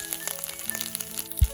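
Fenugreek and mustard seeds crackle and sizzle in hot oil for a Kerala water apple pickle, a short steady fry with one soft thump near the end.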